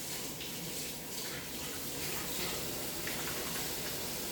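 Steady broadband rush of tap water running into a sink during handwashing in a home kitchen, continuous and fairly close with no talking.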